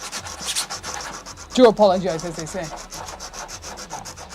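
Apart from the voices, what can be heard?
sanding a 3D printed RC airplane part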